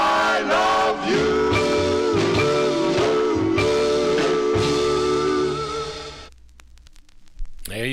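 The closing bars of a doo-wop record play from a vinyl 45, with harmonized vocals and band sustaining a final chord that fades, leaving faint record crackle.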